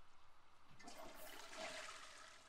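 A toilet flushes in The Sims 4, a steady rushing swirl of water that swells midway and then trails off, heard alone with no talking.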